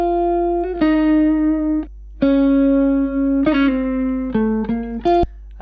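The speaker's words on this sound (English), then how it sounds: "here's a guitar loop," A clean, undistorted electric guitar loop plays a short phrase of sustained single notes with sharp plucked attacks, loud and close, with no voices.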